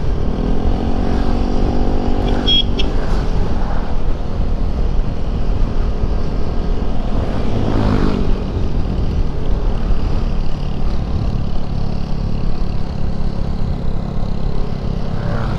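A motorcycle engine drones loudly and continuously on a road, with a steady roar and swelling passes as other vehicles go by, no voices over it.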